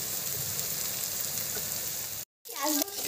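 Chopped capsicum dropped into hot oil for kadai paneer sizzles loudly and steadily; the frying briefly cuts out, then returns with a sharp fresh crackle.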